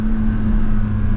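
A Porsche 992 GT3 engine, European spec, drones loudly and steadily with a strong low hum for just over a second, with no talk over it.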